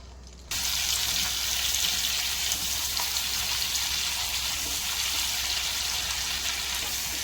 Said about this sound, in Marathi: आता ही भरलेली शिमला मिरची तेलामध्ये सोडायची.